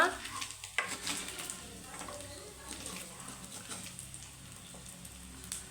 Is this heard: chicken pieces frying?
yes